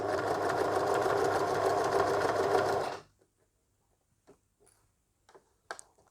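A domestic sewing machine stitches fabric steadily for about three seconds, a loud continuous whir with rapid rhythmic clatter, then stops abruptly and leaves only a few faint handling clicks.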